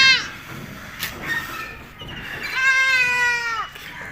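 Goats and lambs bleat at a goat farm: several wavering cries up close, ending in one long, quavering bleat, with soft farmyard background noise around them.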